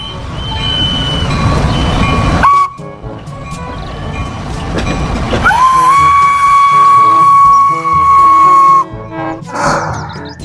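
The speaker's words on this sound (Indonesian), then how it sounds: "Di sini ada kereta Thomas." Whistle toots and rolling clatter from a Thomas toy train, with a sustained whistle tone in the middle and busy mechanical rattling throughout, close and fairly loud.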